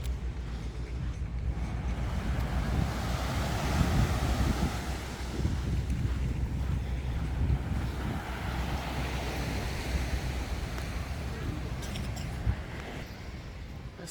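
Wind buffets the microphone on a beach beside the sea in Alanya, with steady surf and waves rolling underneath in a continuous rushing roar.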